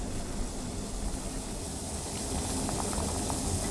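Water for a clear fish soup boils in a pot, giving a faint, steady hiss and bubbling roar that runs without a break, with a few small clinks near the end.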